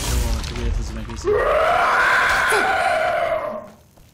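A loud, pitched screech from a skeleton in the Skyrim video game rises sharply after a low rumbling start, holds for a couple of seconds, then fades out.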